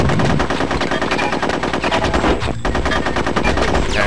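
Rapid machine-gun fire in the video game Conker's Bad Fur Day rattles in a loud, continuous burst, pausing briefly midway before resuming.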